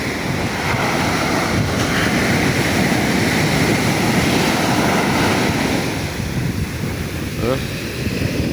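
Large ocean waves at Matnog roar steadily against the shore with a heavy, continuous wash, buffeted by wind noise across the microphone.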